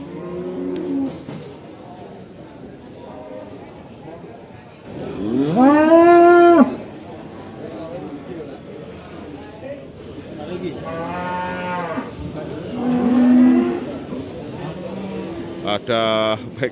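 Two loud, drawn-out cattle moos at a livestock market, the first strong and near, the second fainter, over a murmur of voices and farmyard noise, as cattle are unloaded.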